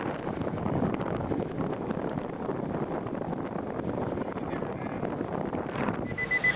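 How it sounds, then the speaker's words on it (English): Steady broadband whoosh from a Nissan Rogue's blower motor stuck running on high, continuous and fairly loud throughout with no change in level, with a faint tonal whine appearing near the end. "Blower motor is on all the time."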